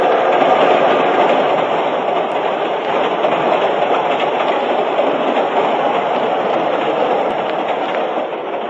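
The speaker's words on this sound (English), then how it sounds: "Let's get off while the train's still moving." Steady rumble and rhythmic clatter of a train rolling along rails, a radio drama sound effect, loud and continuous throughout with no talking.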